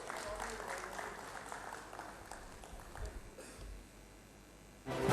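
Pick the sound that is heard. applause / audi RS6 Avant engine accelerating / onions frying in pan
applause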